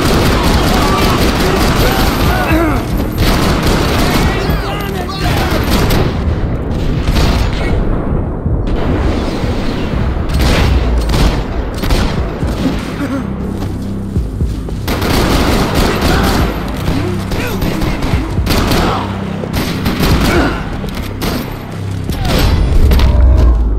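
Heavy gunfire in the shooter Max Payne 3, loud and dense: rapid bursts and booming shots pile up almost continuously, with brief gaps and clamor from the game around them.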